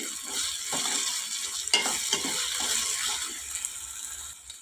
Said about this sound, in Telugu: పచ్చిమిరపకాయలు వేసేసుకుని ఒక్కసారి కలుపుకుందాం